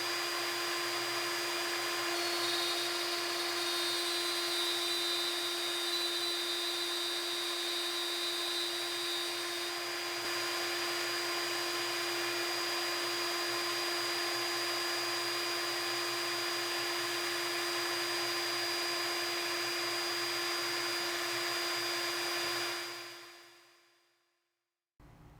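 A handheld router cuts dados into wood for a watch display box, a loud, steady high whine that runs continuously for over twenty seconds before spinning down abruptly at the end.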